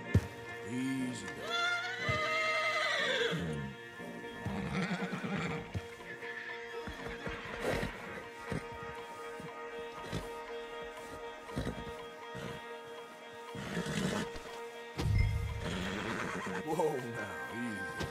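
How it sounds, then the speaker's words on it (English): Stallions in Red Dead Redemption 2 neigh and whinny loudly several times, with clip-clopping hooves in between, while people talk over and around the horse sounds. "you're gonna lead the stallions"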